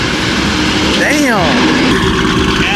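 A deep BMW M4 engine rumbles loudly nearby, then revs with a sweeping rising-and-falling exhaust roar before settling back to a growling idle; a voice speaks briefly.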